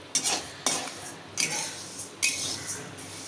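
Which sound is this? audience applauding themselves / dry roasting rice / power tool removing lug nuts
dry roasting rice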